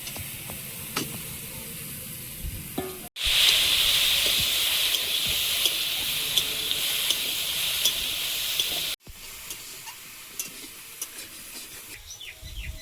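Chopped shrimp hit a hot pan, and a loud, steady sizzling hiss runs for several seconds before cutting off, with quieter kitchen noise and faint bird chirps on either side.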